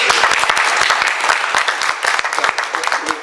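An audience at a museum book signing applauds, dense steady clapping from many hands at close to moderate distance, sustained and loud throughout.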